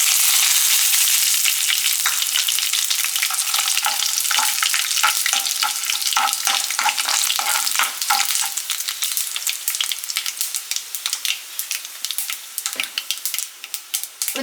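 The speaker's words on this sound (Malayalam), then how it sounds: "ഇതൊന്ന് ഫ്രൈ ആയി വരുമ്പോഴേക്കും അതിലേക്ക് 2 വറ്റൽമുളക് ചെറുതായിട്ട് മുറിച്ചത് ഇടുക" Dried red chillies, cut small, fry loudly in hot oil: a dense, close crackle and hiss opens the scene, then thins into scattered, sharp spitting pops over about fourteen seconds, with no talking.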